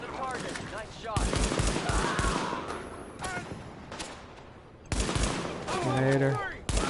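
Gunfire bursts from a Tom Clancy's shooter game, with repeated shots in clusters under radio-style voice chatter, loud and close, pausing briefly before another volley.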